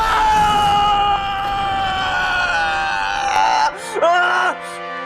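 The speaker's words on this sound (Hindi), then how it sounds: "ये तेरे पोते की चीख थी" A grandson's loud, sustained scream of pain in a TV drama ends in strained, wavering cries toward the end, close and harsh, with no talk over it.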